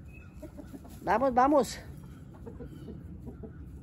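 A hen lets out a short burst of loud, rising clucks up close, with a voice speaking briefly and quiet farmyard background around it.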